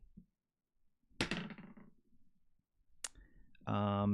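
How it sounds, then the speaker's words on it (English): New dice are rolled on a table, producing a few sharp clattering clicks and bounces separated by short pauses, with a voice heard briefly at the end. "Those new dice roll so nice. They sound nice."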